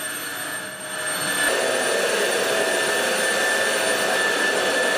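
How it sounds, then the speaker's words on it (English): A Xiaomi Jimmy JV65 cordless vacuum cleaner runs with a loud, steady whine, jumping to a higher, louder suction setting after about a second and a half and holding there. "We can distinguish it from the noises, for the variety of suction power would generate different levels of noises."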